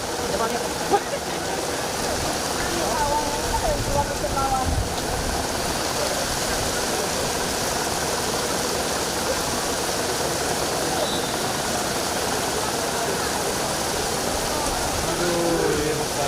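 Rain falls as a steady, even hiss of drops that continues without a break. Voices talk quietly underneath.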